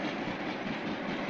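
A 1,000-ton electric freight train runs along the track, a steady close rumble and roll with a constant broadband roar and no break for just over a second.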